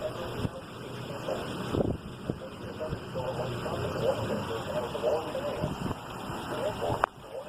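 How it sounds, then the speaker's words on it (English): Strong gusty wind blows during a severe thunderstorm, a low, rough rushing roar buffeting the microphone steadily with occasional sharper gusts, fairly quiet overall. "It's freaking windy out there."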